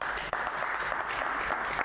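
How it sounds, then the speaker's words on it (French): Applause from a live television debate audience for the technical crew, a dense, steady wash of clapping that stays loud from start to finish with no voices over it. "On applaudit pour toute l'équipe technique"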